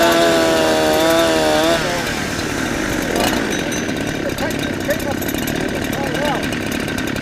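A cheap clone of a Husqvarna 365 chainsaw revs loud and close, its engine screaming high and then wavering through repeated throttle blips, with someone talking over it partway through.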